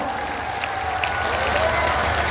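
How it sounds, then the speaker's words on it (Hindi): Crowd at a farmers' political rally applauding in welcome of guests, a thick, continuous wash of clapping from a large gathering, fairly loud and steady with faint cheering mixed in. "जोरदार तालियों से स्वागत और अभिनंदन साथियों।"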